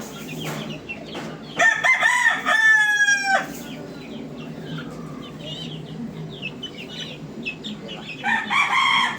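Bulik chickens of the Mulawin line in a backyard flock, with a rooster crowing nearby and hens clucking around it, close and fairly loud, with a person talking at low volume.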